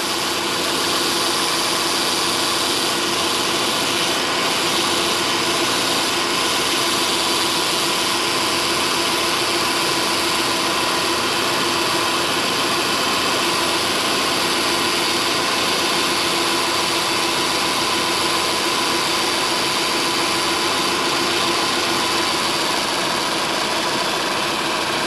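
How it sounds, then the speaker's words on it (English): A car AC compressor drones with a steady mechanical hum and whir under the hood, a constant engine-like rumble with no pauses, quieter after refrigerant is added. "the AC compressor, I'm sure you can hear it, it's a lot quieter now, a lot quieter"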